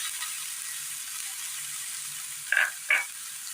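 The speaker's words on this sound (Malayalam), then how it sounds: "ഇതിലേക്ക് അരിഞ്ഞു വെച്ചിരിക്കുന്ന തക്കാളി ഇട്ട് കൊടുക്കാം," Chopped tomato frying in a pan for vegetable masala noodles, a steady soft sizzle running throughout with two brief louder bursts near the end as the pieces hit the hot oil.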